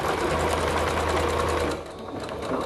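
A sewing machine stitches jogger fabric in a steady, close, loud mechanical whir that runs for about two seconds and then stops, with no talk.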